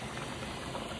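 Water boiling in a pot during cooking, a steady dense bubbling and hiss that holds at an even level throughout, close and alone with no voices.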